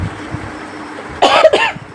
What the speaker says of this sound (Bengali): প্রচণ্ড কাশি হচ্ছে